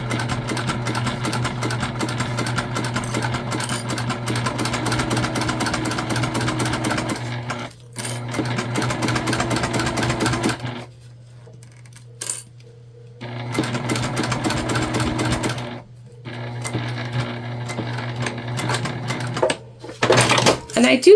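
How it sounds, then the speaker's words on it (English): A Juki sewing machine double-stitches a structured bag, running in long, steady motor runs broken by short pauses, close and loud, with a voice talking over it. "I like to do a double stitch at the top of these if possible."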